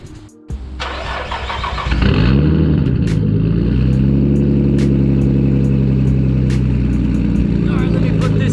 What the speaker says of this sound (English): let me go start the car first